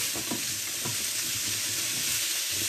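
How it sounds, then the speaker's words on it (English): Loud, steady sizzling of food frying in a pan up close, with occasional stirring scrapes. "That's such a satisfying sound, that sizzle, isn't it?"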